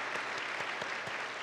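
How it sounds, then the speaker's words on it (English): An audience at a San Francisco business event applauds the speakers in a steady, even burst of clapping, moderately distant and without any voices. "Let's have a huge round of applause for all of them."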